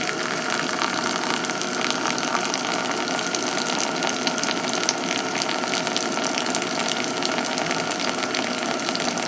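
Hot water poured from a kettle onto coffee grounds to start the bloom, a steady close, continuous splashing trickle that holds evenly throughout with no talking.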